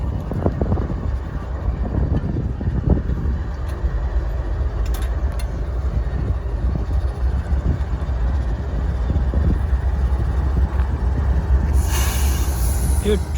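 A westbound CSX freight train rolls past on track 2, a steady loud rumble of wheels on rail with wind buffeting the microphone, and a brief high squeal near the end.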